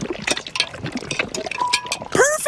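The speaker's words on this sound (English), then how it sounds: "Give it a big stir now." A thick, jelly-like liquid mixture is stirred in a bowl, giving wet sloshing and clinking at close range, ending in a brief squeaky scrape.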